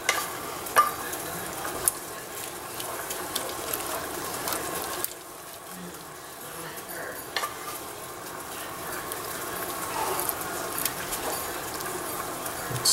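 A spatula stirs roux into a braised short rib stew in a pot, giving a steady soft scraping and bubbling texture with a low sizzle that runs close throughout, a brief dip midway.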